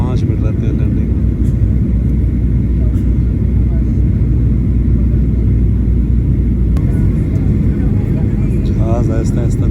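Airliner cabin rumble during the descent toward landing, a loud, steady low roar filling the whole stretch with little change.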